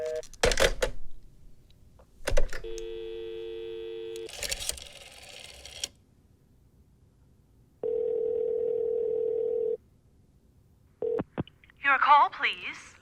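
Old-style telephone dialing in a radio drama: bursts of rotary clicks, a steady dial tone, then a lower busy-style tone, separated by silences, with a brief voice at the end.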